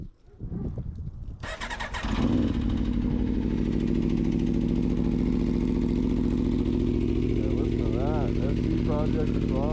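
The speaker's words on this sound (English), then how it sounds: "I'll give you guys a little cold start of the RSV4" An Aprilia RSV4 RR motorcycle with a slip-on exhaust cranks and catches on a cold start, then settles into a loud, steady, rumbling idle up close, with brief revs near the end.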